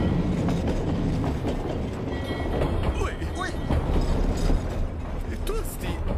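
Tram rolling on rails through a town, a continuous rumbling clatter of wheels with faint squeals, close and steady, with voices speaking over it.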